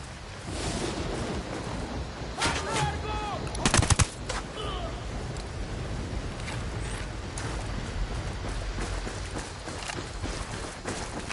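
Gunfire in the video game Ghost Recon Wildlands, with bursts of shots through a dense, noisy battle soundscape and a louder cluster of shots around the middle, with no clear speech over it.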